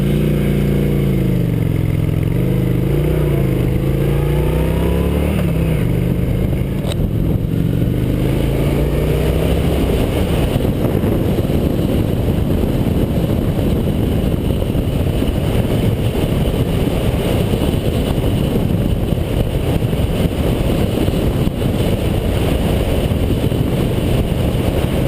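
Honda VT750S motorcycle engine running steadily and loud, a low throbbing idle that rises briefly at the start then settles into a continuous rumble, close to the microphone.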